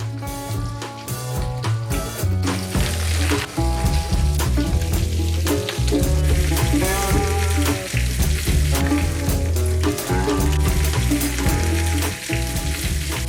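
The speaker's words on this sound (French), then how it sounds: "avec une cuillère d'huile et du beurre. Et moi, je mets mes suprêmes à dorer." Pigeon supremes searing in a pan with oil and butter, giving a loud, steady sizzle and crackle of frying that holds for the whole stretch with no talk over it.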